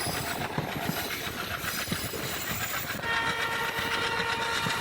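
A train running on the Chennai to Rameswaram line, heard from on board as a continuous loud rumble with rhythmic wheel clatter and a steady rushing noise, no voices.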